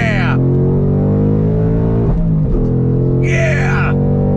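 A 2021 Ford Mustang Mach 1 V8 holds a loud, steady drone, briefly blipping and dropping pitch midway as it rev-matches a downshift, with a sharp rising whine near the end.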